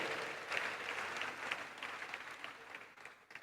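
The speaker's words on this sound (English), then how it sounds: "Can you please give him a round of applause, please?" A hall audience at a university inaugural lecture applauds steadily, a dense wash of claps that fades out toward the end, with no talk over it.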